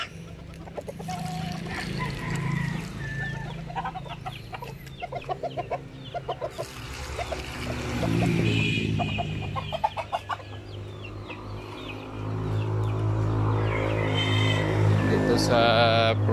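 Chickens cluck repeatedly at close range, a busy overlapping flock with steady background noise, a few sharper calls rising toward the end.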